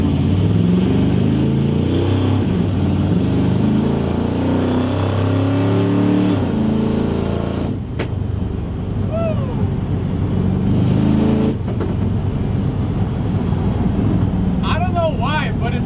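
A 300 HP Pontiac Firebird pulls hard on a back road, its engine a loud, steady roar rising through the gears heard from inside the car, with a brief dip around a shift midway.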